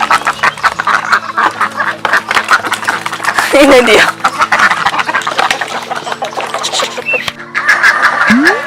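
Home-raised ducks quack repeatedly and nearby during egg collection on a small farm, while someone talks over them and background hum persists.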